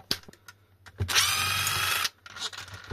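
A power driver whirs in one sustained burst of about a second, backing screws out of a dead Unimoke 48V 14.5Ah battery pack case, with brief clicks and handling noises before and after; close and clear.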